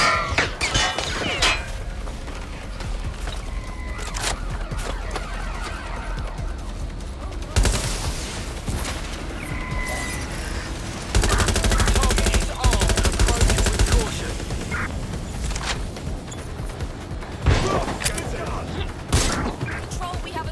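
Gunfire crackles during a firefight in the video game Watch Dogs Legion: loud bursts and single shots, with mechanical clatter, are scattered among voices speaking over the action.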